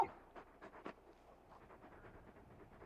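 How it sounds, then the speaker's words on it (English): Torgal, a very large dog in a Final Fantasy video game, pants in quick rhythmic breaths, louder at first and then settling into softer, steady panting, close up with no talking. "You're just a big puppy, aren't you? A very big puppy."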